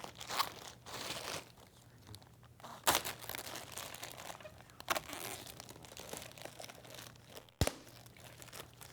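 Plastic sheeting pulled and crinkled while caught during a wheelchair seating pour, giving quiet, irregular crackling and crunching bursts with occasional sharper snaps, close and alone.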